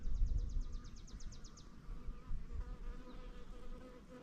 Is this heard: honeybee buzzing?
yes